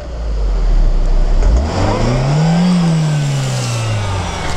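A Lada Niva's engine revs hard as its wheels spin diagonally in sand, one rear wheel hanging in the air and no stability control, the pitch rising and falling through a sustained loud whine.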